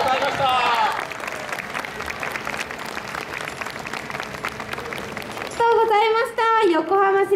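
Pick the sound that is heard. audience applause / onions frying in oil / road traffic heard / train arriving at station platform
audience applause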